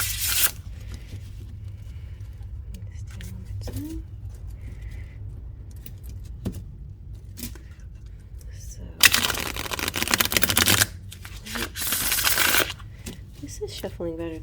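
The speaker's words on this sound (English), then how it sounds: "This is shuffling better than some of these other decks that aren't brand new." Brisk bursts of tarot card shuffling, a riffle of crisp papery flutters near the end, with a person talking quietly throughout.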